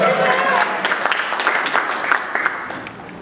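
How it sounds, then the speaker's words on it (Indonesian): An audience at a church service in Canggu claps for about three seconds, a dense burst of applause that gradually thins out, with a voice faintly underneath. "Tepuk tangan lagi saya deh."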